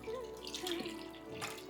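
Tamarind water is poured into a pot of rasam with cooked tomatoes, making a continuous close liquid gurgle and splash that swells and fades over a couple of seconds.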